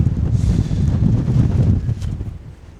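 Strong wind of about 25 mph buffets the microphone on a hilltop at night on Kinder Scout, a continuous low rumbling roar that eases slightly toward the end.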